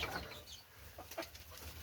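A rooster and chickens cluck and squawk softly nearby in a coop, a few short calls over low background noise.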